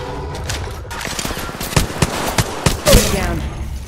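Close-range gunfire bursts in the Apex Legends Mobile video game, rapid fusillade with several sharp louder shots near the end, over busy in-game effects and a faint voice.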